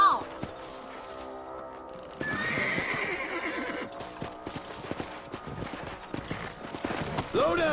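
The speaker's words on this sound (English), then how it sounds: "Let's get back on the horses and see what else is going on." Horses clip-clop along in the Western video game Red Dead Redemption, a steady hoof rhythm with neighs and whinnies layered over game music and scattered thuds, fairly loud and continuous throughout.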